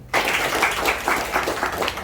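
An audience at an Indonesian health talk breaks into applause, a dense, steady patter of many hands clapping that starts abruptly and holds at a moderate, slightly distant level.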